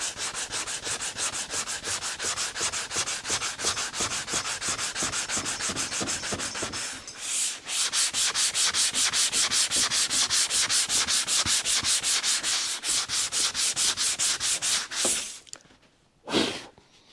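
A sanding block works body filler on a Toyota Tacoma truck panel in fast, steady back-and-forth strokes, loud and close, with a brief pause midway and a final short stroke after a gap.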